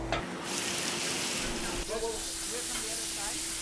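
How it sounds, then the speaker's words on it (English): Diced ham, including spicy tasso, drops into a simmering pot of wine, chicken stock and vegetables, giving a steady close hiss and bubbling sizzle that briefly shifts as the meat goes in, then settles into continuous stirring and gurgling. "It's starting to get the thickness that I want, so I'm gonna add my ham."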